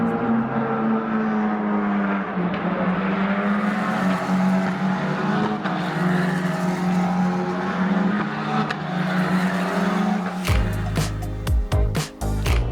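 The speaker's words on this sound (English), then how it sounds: "I feel like listening to these F1 Academy cars, they're even louder than Formula 1." F1 Academy race cars scream past on a circuit, loud high-revving engines sustained and layered, with sharp gear shifts and a cluster of abrupt bursts near the end.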